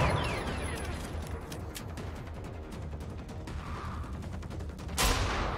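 Rapid rattling bursts of video game gunfire, including a shotgun, crackle through the whole stretch amid smoky battle noise, capped by one louder, closer blast near the end.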